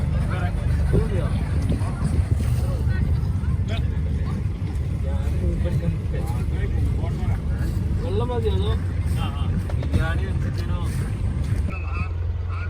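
A boat motors past on the Alappuzha backwaters in Kerala, a steady low engine drone with water wash running throughout, fairly close, with people talking over it.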